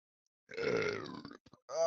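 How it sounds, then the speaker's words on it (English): One long, loud, guttural burp after drinking milk rumbles for about a second, followed by a brief vocal sound right after. "That's a pure milk burp."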